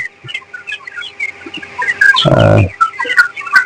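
Broiler chickens cluck and peep in a litter-floored shed at feeding time, scattered short calls close by, with a brief louder burst of low rumbling clatter in the middle.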